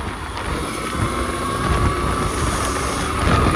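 A small funbike motorbike engine drones steadily while being ridden outdoors, a loud continuous buzzing hum with wind rushing across the microphone and no voices.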